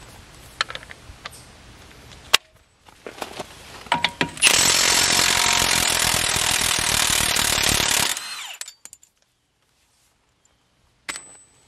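A battery-powered ratchet spins on the front control arm bolts of a 2005-2010 Jeep Grand Cherokee WK, preceded by a few scattered clanks, then a loud buzzing mechanical whir lasting several seconds before it stops and near-silence follows.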